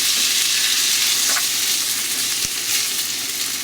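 Kimchi with a little of its juice stir-fries in a pan, a loud, close, continuous sizzle with occasional scrapes and stirs, and no talk.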